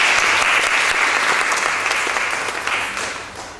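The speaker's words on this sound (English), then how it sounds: "So let's give a round of applause to David and welcome him to Brighton." Warm, steady applause from a lecture audience in Brighton welcoming a speaker, dense clapping that holds and then gradually tapers off at the end.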